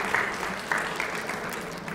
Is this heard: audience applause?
yes